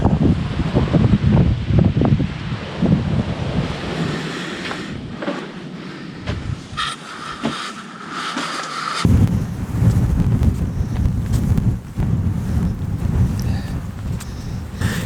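Strong wind buffeting the microphone outdoors in the Verdon, loud gusty roaring rumble that eases for a few seconds midway and then surges back, with no talk.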